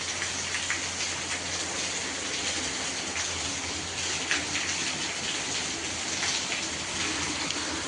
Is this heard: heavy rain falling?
yes